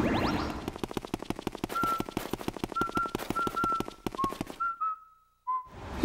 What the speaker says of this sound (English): He is whistling his theme song.